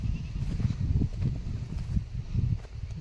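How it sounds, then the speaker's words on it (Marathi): Goats bleating on a farm near a field, a steady cluster of close, overlapping calls repeating throughout with no talk. "हे बघा आपल्या शेळ्या"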